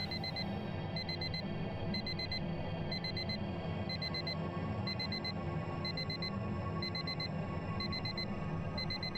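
Ringing speaker in the game Without Escape gives a steady run of regular high electronic beeps in short bursts about once a second, sitting over a constant low hum with no talk.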